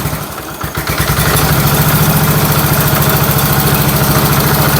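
A 1970 Allis Chalmers B 208 garden tractor engine, run after sitting fifteen years and needing carburetor work, idles loudly and close with a steady, even low chug throughout.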